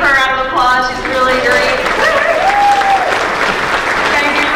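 Audience applause for the MC at a Black History Month school event at Kennard Elementary, steady and close, with voices calling or singing over it throughout.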